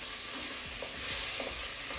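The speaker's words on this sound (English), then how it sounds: "turning those to the brown and seared on each side." Beef stew meat searing in a pot, a steady close sizzle of frying with a few soft stirring and turning noises over the top.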